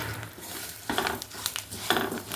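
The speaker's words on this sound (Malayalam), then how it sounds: "നന്നായിട്ടൊന്ന് ഇളക്കി കൊടുക്കുക." A spatula stirs papaya curry with fried kanthari chillies in a pan, producing three or four scraping, clinking strokes over a low background sizzle, close and moderately quiet, with no talking.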